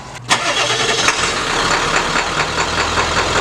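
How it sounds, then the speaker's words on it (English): A Ford F-series pickup's engine cranks and catches after a transmission fluid and filter change, then settles into a steady, slightly rough idle, close and continuous. "It may run rough initially, right when you start it"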